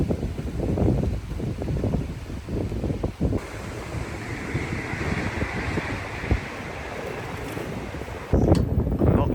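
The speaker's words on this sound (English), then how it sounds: "I'm not loving the headwind," A headwind roars steadily over the microphone while cycling on a cheap €40 bike through Swiss countryside. The dense rushing buffet fills the whole clip, with a louder gust near the end.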